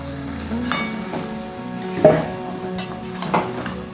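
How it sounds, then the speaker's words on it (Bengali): Mutton pieces frying in a hot pan while being stirred and mixed, with steady sizzling broken by scraping strokes and a few louder clanks near the start and middle, no voices. "এই অবস্থায় আমি খাসির মাংসটা দিয়ে দিলাম সবটাকে খুব ভালোভাবে আমি মিশিয়ে নেব"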